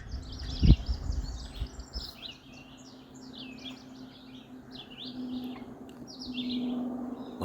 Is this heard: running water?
no